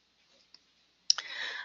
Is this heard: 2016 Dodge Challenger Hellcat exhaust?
no